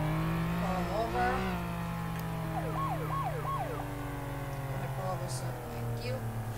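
Video game police car siren wailing in rising and falling sweeps during a traffic stop, over a steady engine hum, with a voice speaking throughout.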